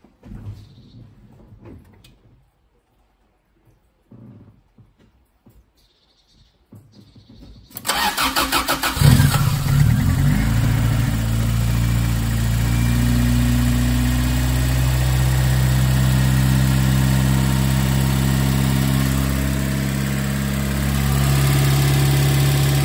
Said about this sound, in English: let's crank the engine and see what reading we get